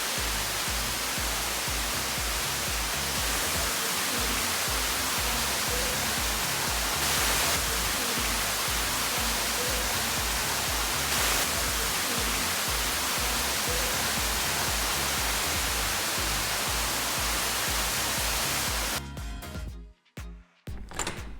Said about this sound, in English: It even comes with its own waterfall